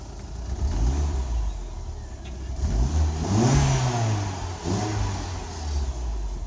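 A Mini Cooper engine with bad injectors and a check engine light runs close by, idling with a few revs that rise and fall, the motor's low rumble steady throughout.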